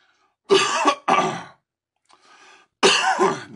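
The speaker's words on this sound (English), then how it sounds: "Now I'm going to have a coughing fit." Coughing fit from one person, three loud harsh coughs close up with a faint throat sound between, no talk.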